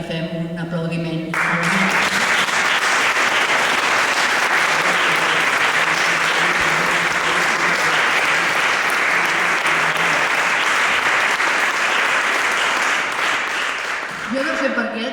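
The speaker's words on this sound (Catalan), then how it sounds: "d'aquí vull que li fem un aplaudiment" An audience at a book presentation applauds an award winner. The applause is loud and dense and runs unbroken. It starts after a brief spoken moment and gives way to talk at the close.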